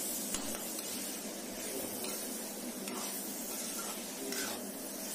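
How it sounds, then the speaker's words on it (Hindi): Chickpea and tomato gravy for chole being fried again in a pan, giving a dense, continuous close-up sizzle with light stirring throughout, no talking. "देखिए ढक के एक मिनट पका लिया है मैंने, इसके बाद फिर से भून रही हूँ अभी।"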